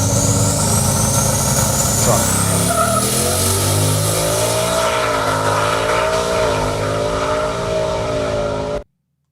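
A twin-turbo Ford F150 truck launches on a street drag run without a trans brake, its engine roaring loud and climbing through gears with rising whine and a brief tire chirp, then cutting off abruptly near the end.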